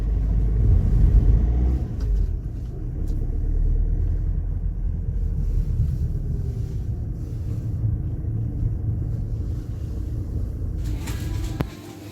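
Car driving along a road on the way to the shops, heard from inside as a steady low rumble of engine and tyres that continues throughout, with a short rattling knock near the end and no talk.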